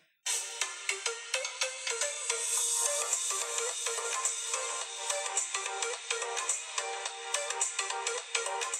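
A music excerpt plays through the built-in speaker of a Xiaomi Mi 8 SE phone. It sounds thin and bright with no low end, and a steady beat of sharp percussive hits runs throughout at a fairly quiet level, with no talking.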